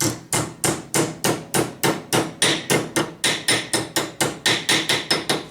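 Hammer blows flattening a metal part from a Raleigh Chopper bicycle, about twenty sharp ringing strikes in a steady quick rhythm, loud and close with no talking.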